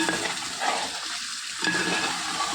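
Roast frying in a pan with coconut milk, a steady broadband sizzle with soft bubbling that dips briefly midway and then swells again, close and continuous with no talking.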